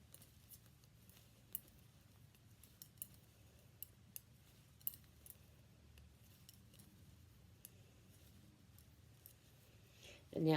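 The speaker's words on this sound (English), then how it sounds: "I wonder if you can hear my needles clicking." Knitting needles clicking as a garter stitch striped scarf is worked by hand, faint scattered clicks and taps spread irregularly over a quiet room background.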